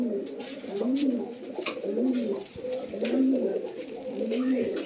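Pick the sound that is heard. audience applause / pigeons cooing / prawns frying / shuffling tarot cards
pigeons cooing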